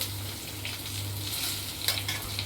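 Onion fries in hot oil being cooked into homemade hair oil, giving a soft, steady sizzle with faint crackles and a low hum from the stove underneath.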